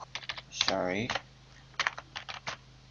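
Keys clatter on a computer keyboard in short bursts of quick taps, close and clear, with a brief tonal squeal near the start and a low steady hum underneath.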